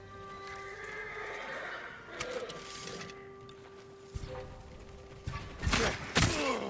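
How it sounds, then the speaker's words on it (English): Horse whinnies from the samurai stables in Ghost of Tsushima, a couple of loud bursts near the end over a steady background game ambience. "They're samurai horses."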